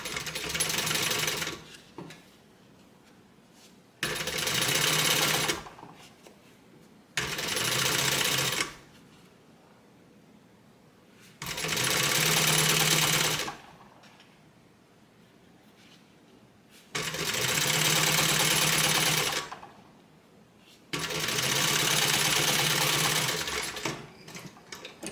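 Sewing machine basting a fabric strip for a welt zippered pocket on a bag, in six loud bursts of steady whirring stitching separated by quiet pauses.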